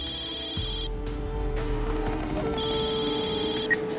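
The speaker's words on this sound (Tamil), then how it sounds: "கஜானன் தான் ஃபோன் பண்றாரு, ஒரு நிமிஷம் இரு" An incoming call sets off a phone's electronic ringtone in two bursts, the second after a short pause, over a low background hum with no voices.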